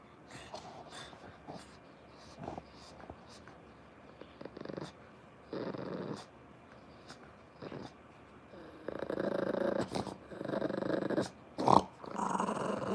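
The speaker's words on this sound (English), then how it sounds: "That's not snoring, Painkiller. That's growling. She's growling at me because she doesn't want anybody" A dog growling low and steady at close range, rumbling in uneven bursts that grow louder toward the end, with no talking over it.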